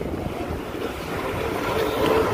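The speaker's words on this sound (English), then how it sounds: "Look at the waves out there." Wind and surf at a dangerous ocean inlet with treacherous rip currents, a steady broadband rush of waves and wind buffeting the microphone, slowly building in loudness with no talking.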